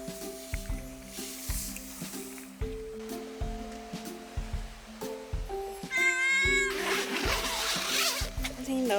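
A scarred stray cat at a solo backpacking campsite gives a few drawn-out meows, rising and falling over steady campsite clatter and rustling, close to the microphone.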